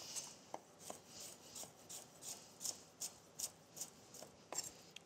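Knife thinly slicing fennel bulb on a cutting board, a steady series of about a dozen crisp, close, quiet cuts at an even rhythm.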